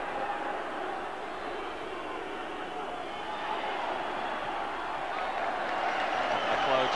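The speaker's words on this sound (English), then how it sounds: "the match gets underway in front of a big noisy crowd here" A big crowd roars at Tynecastle as the Hearts v Hibs Edinburgh derby kicks off, a dense continuous swell of voices that grows slightly louder, with a commentator talking over it.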